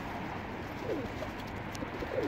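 Pigeons in a coop give a few soft, low coos over a steady background hum. The calls are faint and scattered.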